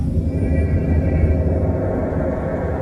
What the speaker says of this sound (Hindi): बिजली कड़कने लगी।